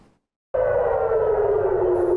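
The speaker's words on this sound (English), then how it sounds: "Sirens wail across Tel Aviv" After a moment of near silence, a loud air raid siren abruptly starts and holds a steady, slightly falling wail across Tel Aviv.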